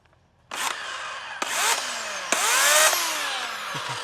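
An electric chainsaw cuts into wood in three bursts, each a loud whining rev with the pitch sagging as the chain bites, close up with no talking.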